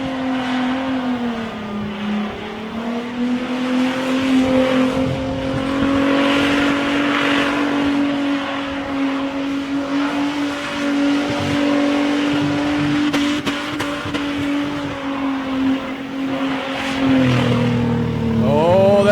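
A drag car engine at a street drag event sits bouncing off its rev limiter, a loud, sustained, stuttering high-rpm drone with tone wavering as it holds against the cutout for a long stretch.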